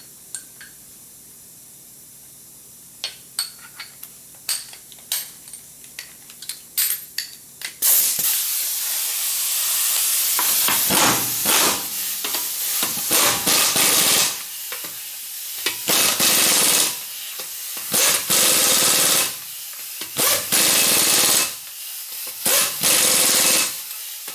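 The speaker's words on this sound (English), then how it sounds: "I'm gonna use this torque stick to torque the lug nuts." An impact wrench drives a 120 ft-lb torque stick onto the front wheel lug nuts of a 2007 Nissan Xterra. A few faint clicks come first, then a string of loud, rattling bursts separated by short pauses.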